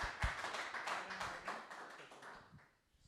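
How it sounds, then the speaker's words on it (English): A small room at a Rush Sports dealer meeting gives a brief, quiet round of applause for two colleagues, scattered claps tapering off over a few seconds into near silence. "A round of applause for Ollie and Rogan"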